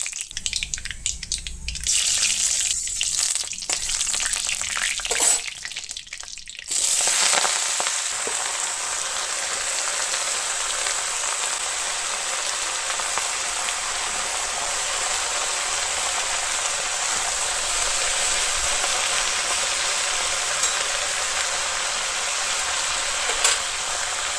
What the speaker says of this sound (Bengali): তেল দিয়েছি আর এই যে পাঁচফোড়ন ভাবছি একটা শুকনো লঙ্কা দিয়ে দিই